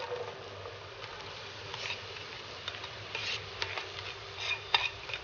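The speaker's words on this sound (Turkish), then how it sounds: "Soğan şeffaflaşana kadar kavuruyoruz." Chopped onions sautéing in sunflower oil in a pot on the stove, a soft, steady sizzle with faint stirring clicks and scrapes, quiet and close.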